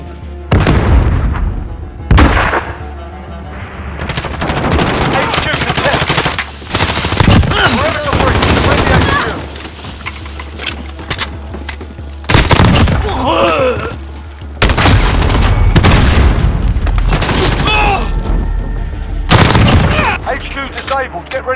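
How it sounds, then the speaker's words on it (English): Heavy gunfire, rapid bursts and booming explosions from a Call of Duty: Modern Warfare HQ match, with a cruise missile strike; loud, nearly continuous battle noise with brief lulls and a voice speaking underneath. "Cruise missile, go for launch."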